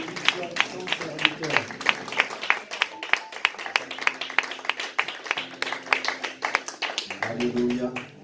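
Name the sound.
applause welcoming the speaker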